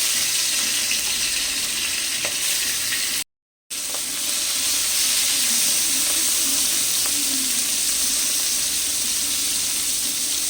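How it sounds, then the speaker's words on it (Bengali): Prawns fry in white oil in a pan, giving a loud, dense, continuous sizzle that holds steady from start to end apart from one brief dropout, with no talk. "তেল দিয়ে আমি চিংড়ি মাছগুলোকে ভেজে নিচ্ছি"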